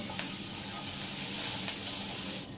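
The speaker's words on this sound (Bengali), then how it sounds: "লঙ্কার গুঁড়ো দিয়ে দিলাম দিয়ে আবারও খুব সুন্দর করে ভেজে নেব" Taro stolons fry with chili powder in hot oil, a continuous close sizzling hiss with a couple of faint stirring taps, ending abruptly, and no speech.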